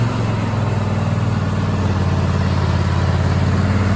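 A Husqvarna engine, freshly fitted with a new battery, runs at a steady idle close by: a loud, even low rumble with a regular pulsing throb and no voices over it.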